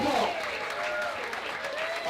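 Audience applause at a youth leadership breakfast program, a steady wash of clapping from the room while a voice speaks over it close up.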